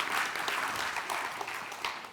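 Crowd at a birthday bash event claps steadily, a continuous field of many hands applauding at a fairly soft, even level from start to finish.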